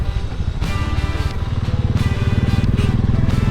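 A motorcycle bought in 2013 and ridden for about ten years runs steadily up close, its low engine drone pulsing continuously on a highway ride with no talking.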